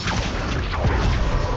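An Expulso spell blast in the game Hogwarts Legacy, a dense, loud rumbling boom that fills the whole moment without break, with no voice heard over it.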